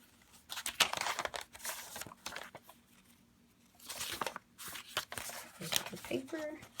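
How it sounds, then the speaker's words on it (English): Paper pages of a handmade junk journal being flipped, crisp crinkling rustles in two bursts separated by a quiet pause, close and fairly soft. "So I'm going to just try to be flipping now."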